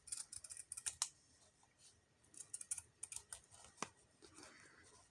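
Paper being trimmed with scissors for a junk journal, a quick run of crisp snips and rustles that stops, then resumes in a second burst, close and fairly quiet with no talking.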